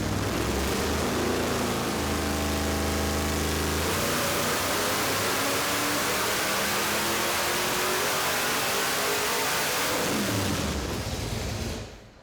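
A Roadkill project car engine runs on a dyno pull to 7,000 RPM, a loud, steady roar that climbs in pitch over about twelve seconds before easing off at the end, with no talking.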